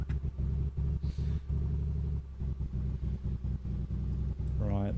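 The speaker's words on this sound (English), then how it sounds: "the engine doesn't sound healthy" A Piper Comanche engine in Microsoft Flight Simulator runs with a low, rough, uneven rumble that pulses and stutters as if not running healthily, loud and close, with someone talking over it.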